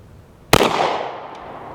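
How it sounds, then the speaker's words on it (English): Canik TP9SF 9mm pistol firing a single loud, sharp shot at a range, the close crack trailing off in a long fading echo with no talking. "Let's go ahead and shoot that right hand side."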